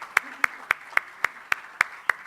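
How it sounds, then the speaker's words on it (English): Eight sharp, evenly spaced claps ring out in a slow steady rhythm, each a crisp isolated hit, with a faint voice briefly underneath, as a school audience claps for children after a maths presentation. "give them big clapping, big clapping"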